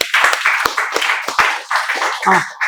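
Students in a classroom clap for a classmate, a loud, close burst of uneven handclaps from a small group, sharp individual slaps punctuating the steady patter.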